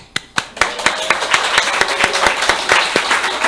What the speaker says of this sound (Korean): 박수 할까요?